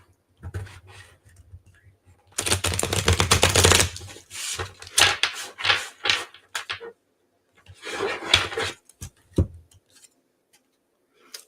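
Tarot cards are shuffled in close, crisp bursts: a dense riffle of flicking and snapping, then scattered taps and slides of the deck at irregular intervals, with no talk.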